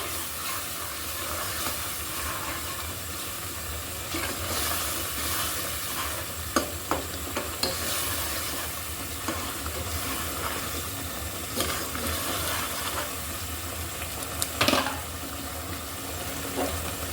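Chapila fish curry with spice masala being stirred and mixed in a pan, a continuous wet sizzle with occasional spoon scrapes and knocks, close and steady throughout.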